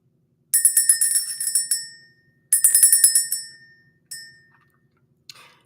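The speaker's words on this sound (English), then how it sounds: "Let's ring the bell." A handheld bell rung to clear energy in a spiritual morning session, struck in two long bursts of rapid ringing that decay, then a single lighter ring and a faint final tap, clear and alone with no talk.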